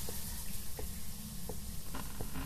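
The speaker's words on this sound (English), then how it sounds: "Sounds like 2 showers." Shower water runs in the video game Phasmophobia, a steady low rushing hiss with faint periodic splashes, heard close and unbroken.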